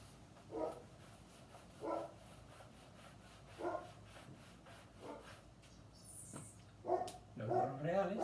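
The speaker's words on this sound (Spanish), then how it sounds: "Perdonen el perro que es del vecino, parece que llegó alguien y está ladrando." A neighbour's dog barking from a distance, short separate woofs repeating every second or two at a faint level, with a quiet voice close by near the end.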